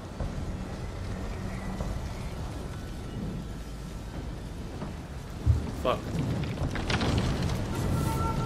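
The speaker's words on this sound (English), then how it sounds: "The storm's coming." Thunderstorm with steady rain in the Ghost of Tsushima video game, a dense continuous hiss of rainfall with rumbling thunder building and cracking midway, loud and enveloping, no speech over it.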